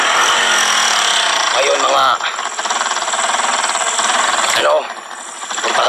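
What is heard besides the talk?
motorcycle engine running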